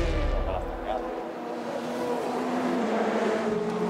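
Race car engines at Monza circuit during the 2021 6 Hours endurance race, a steady loud motor drone with a rising pitched whine, underneath an ongoing voice.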